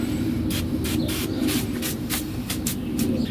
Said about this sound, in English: Maybe use this spray here.